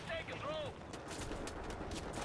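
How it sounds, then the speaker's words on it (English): Enemy gunfire in Wolfenstein The New Order, a faint spatter of rapid shots toward the end that follows a couple of whooshing tonal effects, all at low level. "the dude shooting at me annoys me"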